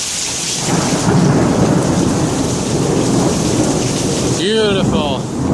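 Heavy rain pours during the first thunderstorm of the year, and a deep rolling thunder rumble builds and sustains through it, with a brief voice near the end.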